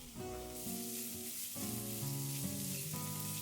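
Onions, urad dal, chana dal, garlic and dry red chilies sizzle steadily in hot oil, a continuous close frying hiss with a faint tonal hum beneath it and no voices.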